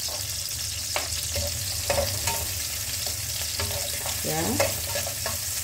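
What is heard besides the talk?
shallots and garlic stir-frying in a pan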